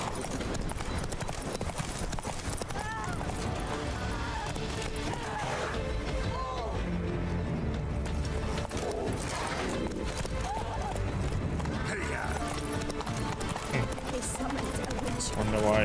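Rhythmic hoof clip-clops of a galloping horse in The Witcher 3: Wild Hunt, steady and continuous under game music and effects, with a voice speaking over it.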